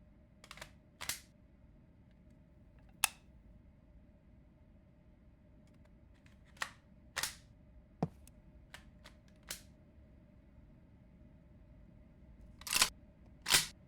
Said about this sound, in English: First, gotta put my sight back on.